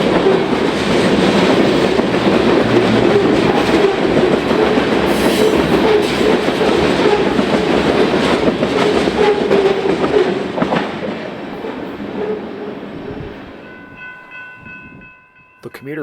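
A BNSF freight train loaded with silica sand mined from Illinois sandstone rolls past close by, a loud steady rumble and wheel clatter that fades over the last few seconds, ending with a faint high squeal.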